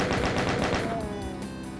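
A chaingunner enemy in the Doom game level Bloodstain fires its chaingun in a rapid, continuous burst of loud gunshots that fills the moment, with game ambience underneath.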